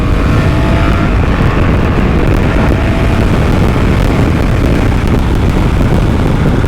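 A BMW R1300 GS motorcycle pulls a roll-on acceleration on the road, its engine a steady, loud roar buried under heavy wind rush at the rider's microphone.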